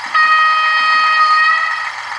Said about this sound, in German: Unter F2 kommt natürlich noch das Signalhorn.